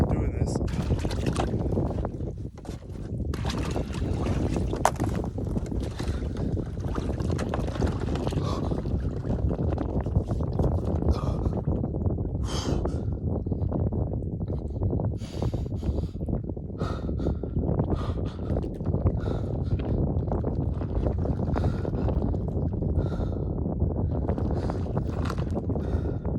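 Strong wind roars steadily throughout during a snowstorm at 25 degrees, buffeting the microphone with constant loud rumble and gusty surges, no talking heard.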